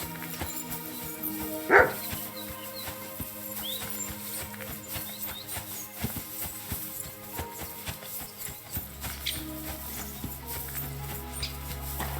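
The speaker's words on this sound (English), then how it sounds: "Barking." A dog barking in the medieval video game Kingdom Come: Deliverance II, a few barks heard at moderate distance over a continuous game soundscape with hoofbeats and ambient music.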